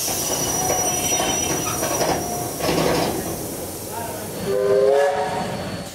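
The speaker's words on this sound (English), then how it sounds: "The locomotive is now seen pulling into East Hill Station." A 35 class locomotive pulls into East Hill Station in New South Wales, a loud steady rumble of rolling wagons with high wheel squeal and a brief whistle-like tone near the end.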